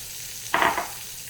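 Beef broth is poured into a hot pot holding tomato paste for an oven-baked pot roast, making a single brief hissing splash and sizzle that quickly fades.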